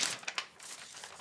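Paper crinkling and rustling in the hands before a knife cutting test, a few short crisp crackles and a faint tear over about a second, close and alone.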